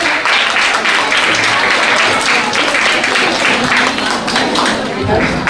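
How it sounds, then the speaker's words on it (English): An audience at a Women's Day celebration in Muscat applauds steadily and loudly, with voices and chatter mixed in beneath the clapping. "And a big applause to it."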